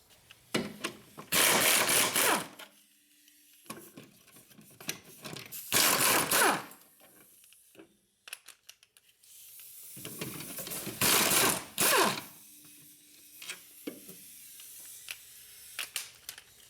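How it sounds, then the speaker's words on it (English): A ratchet wrench loosens the 17mm strut mount bolts on a Hyundai Sonata, giving loud bursts of rapid clicking ratcheting close by, separated by pauses filled with quieter metallic handling noises. "now we're gonna undo these bolts over here that hold the strut mount on the body"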